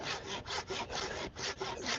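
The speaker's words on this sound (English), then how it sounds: "I bring out the handsaw, it's all good." Handsaw cutting through firewood in steady back-and-forth strokes, about eight rasping pulls in quick rhythm, close and clear with no voices.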